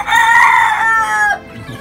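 Young roosters crow close and loud in a single strained call lasting about a second, with a faint cluck from chicks just after.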